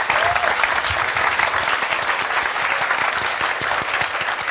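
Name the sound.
audience applause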